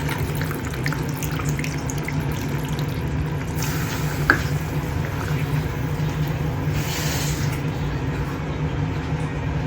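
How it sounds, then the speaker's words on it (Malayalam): Liquid strained by hand trickles and splashes steadily into a vessel for several seconds, with a faint background hum and a small clink midway. "കൈ കൊണ്ട് അരിച്ചൊഴിക്കുവാണേ. അരിപ്പൊന്നും എടുത്തില്ല, കയ്യിലേക്ക് ഇങ്ങനെ."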